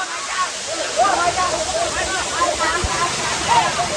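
Lihonjar waterfall in Karbi Anglong roaring as a steady, broad wash of falling water close by, with voices talking over it throughout.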